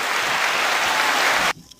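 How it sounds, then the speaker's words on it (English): A burst of dense clapping, like a crowd applauding, rushes steadily for about a second and a half before cutting off abruptly into near silence. "Applause for not getting the Rona"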